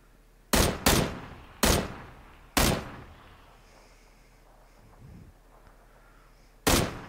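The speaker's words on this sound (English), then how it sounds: "I'm just firing some shots at him to keep him honest while you run up here" Gunshots in the PUBG video game on Xbox One X: five sharp, loud single shots at uneven intervals, a quick pair at the start, then spaced cracks, with quiet game ambience between them and no talk.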